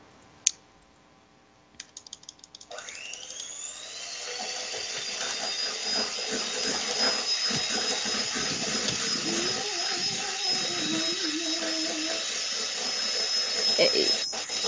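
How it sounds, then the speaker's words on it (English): A high, steady power-tool whine like a chainsaw or drill builds up in the background and runs continuously, fairly loud, with clicks and a faint voice mixed in. "I hear a chainsaw."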